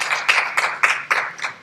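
A church congregation claps to welcome a visiting mother, short bursts of hand claps swelling and fading about six times in under two seconds, moderately close, with no talking.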